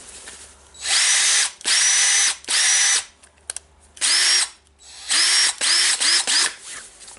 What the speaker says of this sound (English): now we can run the motor without the gear assy